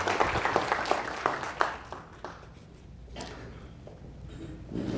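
A short round of audience clapping for the Homewood city council at a State of the City address, with a few sharp claps up front that quickly thin out into fading scattered applause and room noise.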